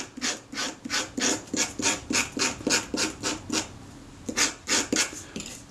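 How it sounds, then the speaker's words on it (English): Repeated rasping scrapes as filth is scraped off the leatherette covering of a Retina IIc camera, a steady rhythmic series of about fifteen close strokes with a brief pause midway, no talking. "So I've just got to scrape off the vast bulk of this filth."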